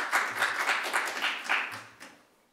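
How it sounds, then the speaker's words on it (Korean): Audience applause for a lecturer at a humanities lecture event, moderate clapping from a seated crowd that swells in bursts and fades out over about two seconds. "큰 박수 부탁드립니다."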